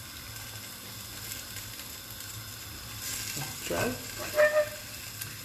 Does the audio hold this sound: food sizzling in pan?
yes